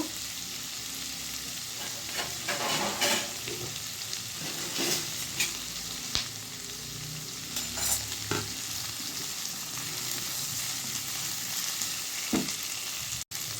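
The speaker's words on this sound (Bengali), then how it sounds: "পেস্টটা আমার ভাজা ভাজা হয়ে গেছে" Spice paste for a yogurt and cashew chicken curry sizzles steadily in a pan, a continuous frying hiss with brief louder crackles and stirring scrapes throughout, close and moderately loud, no talk.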